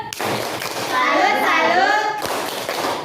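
A group, including children, performing the tepuk salut clapping chant at a school gathering in Indonesia: quick rhythmic handclaps mixed with voices chanting together, close and lively.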